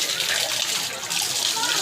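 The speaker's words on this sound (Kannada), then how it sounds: "ಅಲ್ಲಿಂದ ನೀರು ನಂದಿ ಬಾಯಿಂದ ಬರೋದು" Water pouring steadily from a Nandi-mouth spout at a temple tank in Kolar, where cold water flows around the clock and people bathe; a continuous, close, bright gushing rush with a faint voice underneath.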